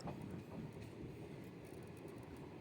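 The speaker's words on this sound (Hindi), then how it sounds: "यहाँ पर अब ट्रेन हमारी पहुँच रही है सोहावल स्टेशन के ऊपर" A train arriving at Sohawal station on a double-track line between Barabanki and Ayodhya, heard as a steady low rumble of rail cars rolling close by, continuous and fairly loud with no voices.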